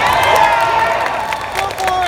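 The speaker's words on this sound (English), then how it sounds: "Are they cheering for the wrestling?" A crowd at a live convention event cheers and screams in a loud, sustained burst of many high voices that fades slightly toward the end.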